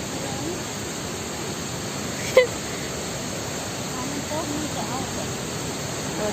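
Steady, broad rushing roar of a waterfall at Haew Suwat in Khao Yai, Thailand, continuous and fairly loud throughout, with one brief click partway.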